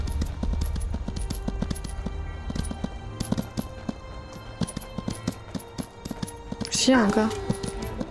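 Hoofbeats patter rhythmically in the video game Skyrim among other game sounds and a musical tone, while someone speaks briefly near the end.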